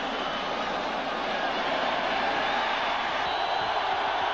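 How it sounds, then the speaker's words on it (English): A big crowd at Ohio Stadium, the Old Shoe, swells into a steady, dense roar during the 1992 Michigan at Ohio State college football game, a continuous wall of noise with no pauses. "The crowd gets into the ball game."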